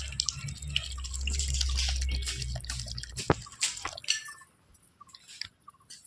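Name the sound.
water added to simmering chicken curry in pot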